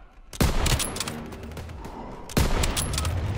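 Gunfire in the shooter game Call of Duty: Modern Warfare: two loud, sharp bursts of close rifle fire, each trailing into echoing rattle and distant shots, with no talk.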